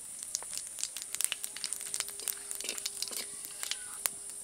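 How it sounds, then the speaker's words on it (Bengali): Bay leaf and five-spice seeds sizzle and crackle in hot oil for a Bengali shukto, a steady dense spatter of sharp pops and crackles close up, with no talking. "এবার শুক্তোটা বানানোর জন্য তেলের মধ্যে দিয়ে দেব তেজপাতা,"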